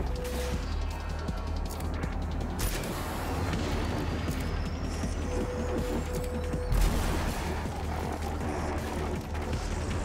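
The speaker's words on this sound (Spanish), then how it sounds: "Me gusta mucho el tema de las explosiones con el polvo de colores, tío." Repeated booming explosions and gunfire bursts from Rage 2, mixed with clanking mechanical sounds, fairly constant and loud throughout with no voices.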